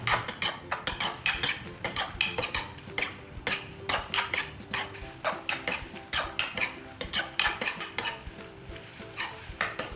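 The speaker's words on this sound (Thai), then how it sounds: "ผัดกุ้งกับหมึกให้สุก" Shrimp and squid stir-fried in a pan with pounded aromatics for a spicy seafood instant-noodle dish, metal utensils scraping and clanking rhythmically against the pan over a low sizzle.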